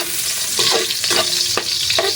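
Onion, garlic and ginger hit hot oil in a pan for a string beans and shrimp coconut-milk dish, letting out a loud close sizzle broken by quick rhythmic stirring scrapes.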